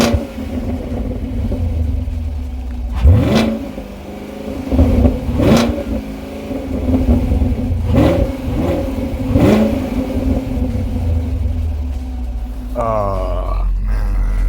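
A Chevrolet Camaro engine in track mode after a snowstorm cold start idles with a deep rumble, then revs sharply four times in spaced bursts, loud and close, before settling; a faint rising whine enters at the end.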